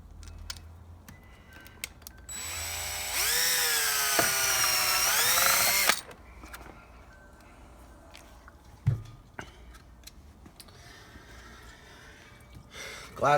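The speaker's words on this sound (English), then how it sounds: "So all I'm going to do is make a starter hole." An electric drill fitted with a 1/16 bit bores a starter hole for screws. It gives one steady, loud, high whine for about four seconds, close by, then stops, followed by faint handling knocks.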